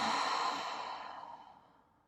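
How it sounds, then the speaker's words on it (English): A single deep, slow exhale during yoga child's pose, close and soft, fading away over about two seconds. "Take a few big full breaths here."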